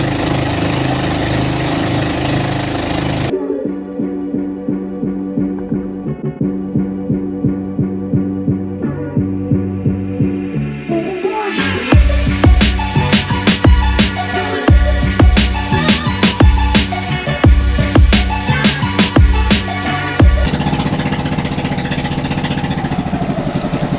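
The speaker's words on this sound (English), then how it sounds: "the boat engine is so loud" A loud boat engine drones on a trip across Sugba Lagoon in Siargao, Philippines, a steady pulsing mechanical rumble close by that swells harsher and more rattling midway before settling back to an even throb.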